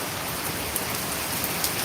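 Rain pours down steadily in a dense, close hiss, with a few sharper drops ticking through the constant wash.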